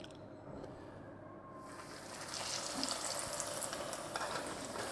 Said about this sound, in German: Mein Öl ist heiß. Da kommen jetzt eben vorsichtig die Koteletts rein.